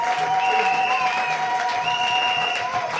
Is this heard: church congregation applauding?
yes